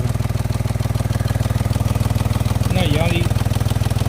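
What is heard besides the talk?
Mahindra XUV 3XO engine idling with knocking noise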